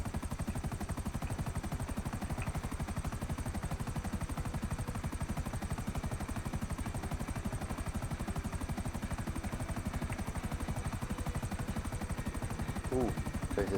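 A helicopter flying in GTA V, its rotor thumping in a fast, even rhythm at constant loudness throughout, with a brief extra noise near the end.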